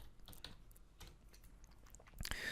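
Typing on a computer keyboard while entering a function in Maya, a quiet run of soft, irregular key clicks with a louder cluster of taps near the end.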